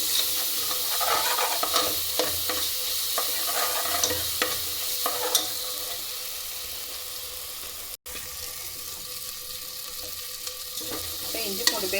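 Ginger garlic paste sizzles and fries in a pan while being stirred for a mutton curry, a close, continuous crackling hiss with occasional spoon scrapes and no talking.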